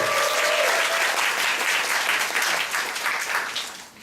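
A theater audience at a sold-out show breaks into loud, close applause, a thick wash of clapping that holds steady before tapering off at the end.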